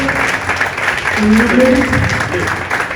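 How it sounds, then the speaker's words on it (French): Audience applause at a Vovinam Viet Vo Dao press conference in Senegal, a continuous patter of clapping hands with a voice speaking over it partway through, fairly loud and close. "Sous vos applaudissements, s'il vous plaît."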